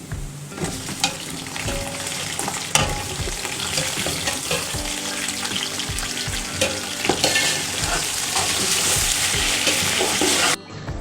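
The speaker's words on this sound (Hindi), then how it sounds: "साबुत गरम मसाला डालने के बाद मैं इसके साथ ही चिकन डाल दूँगी।" Loud, steady sizzling of chicken frying in hot oil with whole garam masala for yakhni pulao, with occasional stirring scrapes and clatter; no voices.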